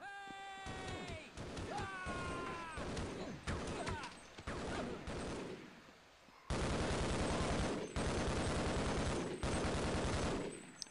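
Sustained automatic rifle fire from an M4 assault rifle in the shooter game Half-Life, loud and near, in dense rapid bursts after a stretch of mixed in-game commotion and clatter.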